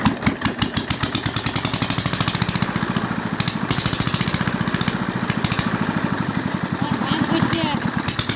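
A small engine, likely a hand-cranked machine with a handle, putters steadily at close range with a fast, even chugging pulse throughout, while people talk over it.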